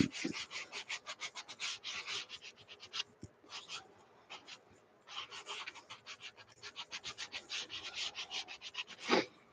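A wooden cutout being hand sanded, steady rhythmic rasping strokes in quick bursts with a short pause in between, fairly faint and close with no voices.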